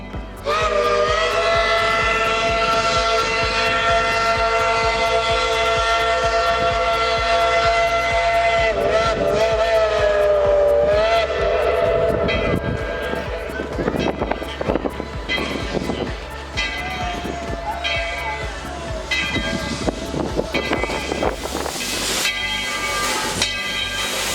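Tweetsie Railroad steam locomotive No. 12 pulls in with a long, loud steam whistle, followed by hissing steam, clanks and rumbling, close by and continuous.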